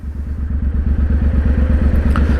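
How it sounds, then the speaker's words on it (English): A 1200cc motorcycle engine runs close and loud, a deep, rapid, even thumping pulse that holds steady throughout with a faint rush of wind over it. "He's just no match for that 1200cc engine."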